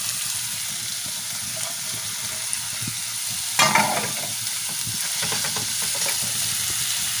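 Onion with chopped garlic and ginger sizzles steadily in a hot pan for momo filling, a loud continuous frying hiss with a brief sharper burst of spatter partway through as ingredients are stirred.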